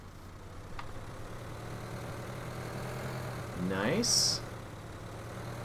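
A Ford 5000-based 75-horsepower tractor idles steadily in Farming Simulator 2013, a low, even engine hum under a short spoken word and a brief higher-pitched chirp near the end.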